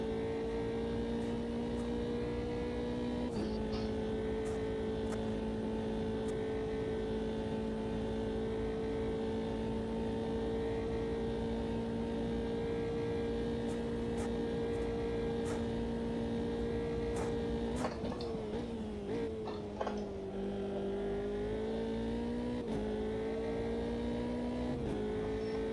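A Formula 3 race car engine at Bathurst in the Automobilista 2 racing game drones at a steady high pitch, then the note drops and wavers as the car brakes in first gear before climbing again.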